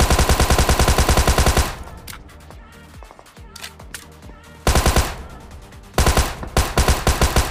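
Tommy gun fire in PUBG Mobile comes in loud, rapid automatic bursts, a long burst at the start, then quieter scattered shots and clatter before two more sharp bursts near the end.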